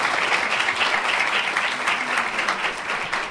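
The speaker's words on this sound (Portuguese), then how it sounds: "Peço também uma salva de palmas para a nossa capitã Kitin" A crowd applauds steadily for a captain at a civic ceremony, sustained clapping filling the room at an even level for several seconds with no voice over it.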